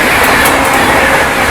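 Humsafar Express from Anand Vihar to Gorakhpur roaring past at speed while overtaking another train, a loud, steady rush of wheels and rail clatter filling the whole short stretch.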